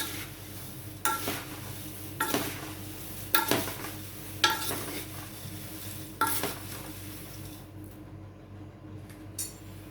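Poha chivda being stirred and tossed in a pan, with repeated scraping strokes and gentle sizzling heard up close, several distinct stirring bursts over a steady hiss before trailing off.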